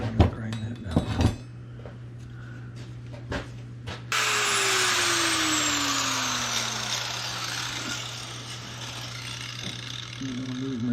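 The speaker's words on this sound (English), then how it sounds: "I'm gonna grind that down." An angle grinder grinds down metal on a 3-point hitch receiver, starting after a few metal clanks and then running as a loud, steady, close whine with a shifting pitch until the end.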